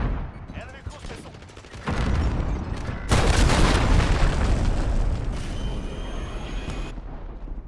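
Enemy cruise missile strike in Call of Duty Modern Warfare: loud booming blasts arrive in stages, with a heavy rumbling impact building midway and lingering, mixed with scattered gunfire-like crackle.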